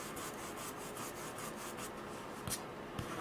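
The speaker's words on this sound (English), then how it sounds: "To yellow up our candle cups, dry rub with some antique gold right over everything that you've done." Dry paintbrush rubbed with antique gold paint over painted Christmas candle cups, a soft, steady bristly scraping with faint rhythmic strokes, quiet and close, with a couple of small taps near the end.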